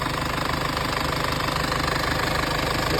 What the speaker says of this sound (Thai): เครื่องยนต์เดินนิ่งๆเลยนะครับ